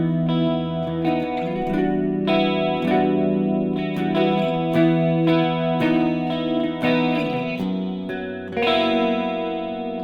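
A clean electric guitar on an HX Stomp, with a subtle 80s-style studio pitch modulation, plays ringing chords and arpeggios that shimmer and waver slightly, up close with no talking.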